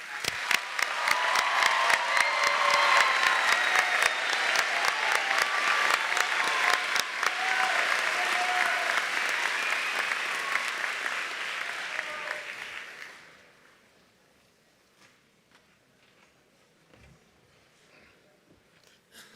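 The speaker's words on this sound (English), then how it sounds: "a round of applause." Audience at a 2023 Chicopee Comprehensive high school graduation gives students of distinction a long, loud round of applause that holds steady for about twelve seconds, then fades to scattered claps and near quiet.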